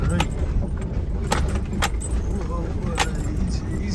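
A four-wheel drive vehicle jolts along a rough bush track, with a low engine rumble under repeated sharp metallic rattles and clinks at an uneven rhythm.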